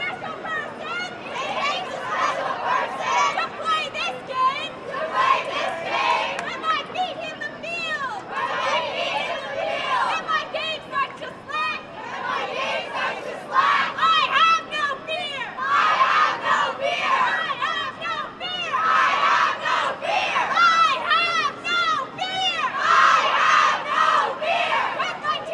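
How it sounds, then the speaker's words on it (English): A girls' varsity ultimate frisbee team chants its cheer together before a game, a crowd of young voices shouting in rhythmic unison with excited calls, loud and sustained throughout. "We're going to hear their cheer now."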